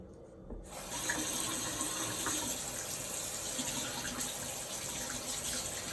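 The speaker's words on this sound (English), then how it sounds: "So I'm about to try this one under the water." A makeup brush is rinsed under a running tap, with a steady close stream of water that starts abruptly after a brief near-silence and continues without pause.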